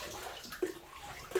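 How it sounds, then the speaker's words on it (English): Water drips in a flooded 1878 mine, two distinct plops about 0.7 seconds apart standing out over a steady background wash of flowing water, close and clear with no voices. "Awesome with that water dripping"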